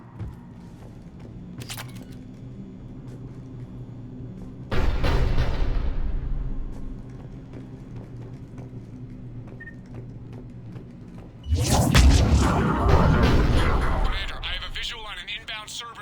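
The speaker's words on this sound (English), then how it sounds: "The cannon fire is clearing the way." Cannon fire in the video game Mass Effect during an assault on a Cerberus cruiser: two heavy, loud booms roughly seven seconds apart, each rolling out over a low rumbling battlefield background.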